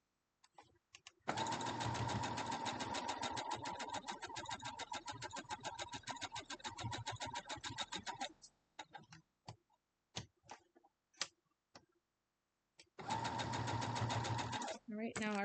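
A sewing machine runs in a steady, fast, close stitching burst while piecing a quilt block, stops for a few seconds of light handling clicks, then starts up again near the end.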